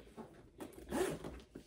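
The zipper on a Gucci backpack is pulled open close up, giving short rasping runs of teeth sliding apart in a quiet room.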